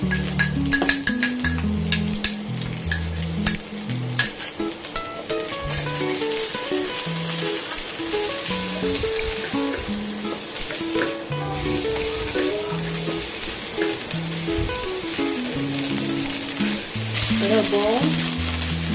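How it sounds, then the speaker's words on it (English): Garlic, shallot, belacan and anchovy sizzle and fry in a wok, stirred with occasional metallic clinks, loud and continuous under a background of plucked melodic music. "So first of all, stir fry the garlic, shallot, belacan,"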